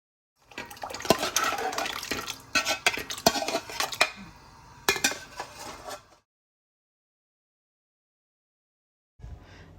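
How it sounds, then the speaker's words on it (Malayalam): Semiya (vermicelli) payasam with sugar stirred in a pan, as a spoon scrapes and clinks busily against the metal for several seconds, stops, and returns with a brief scrape after a long silence. "നമുക്കൊന്ന് നല്ലപോലെ ഇളക്കാം"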